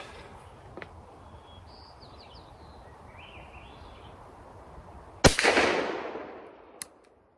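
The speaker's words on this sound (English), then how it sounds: "It was my first time firing this shotgun with these." A Stevens Model 940 .410 shotgun fires a single triple-aught buck shot outdoors, a sharp loud blast followed by a rolling echo that fades over about a second, with faint birdsong before it.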